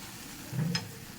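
Ash gourd ghonto with hilsa fish head simmering in oil over a low gas flame, a soft steady sizzle with a brief louder bubbling swell midway, close and alone.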